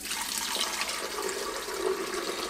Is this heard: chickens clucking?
no